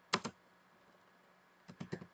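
Computer keyboard typing a Linux copy command: a quick pair of key clicks, a pause, then a short burst of several more keystrokes, close and fairly quiet.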